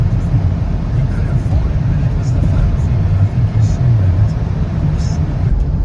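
A Volvo car drives along an open road with a steady low engine rumble and road noise, loud and continuous throughout, with no talking.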